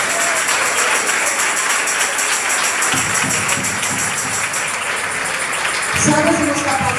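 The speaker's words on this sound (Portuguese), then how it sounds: "bate palmas da glória de Deus" Church congregation clapping at a women's tea gathering, a steady wash of applause that swells twice, with voices mixed in underneath.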